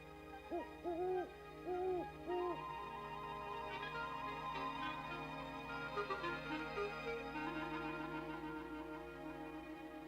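A great horned owl gives several deep, rhythmic hoots near the start, set against a steady layered background of sustained tones.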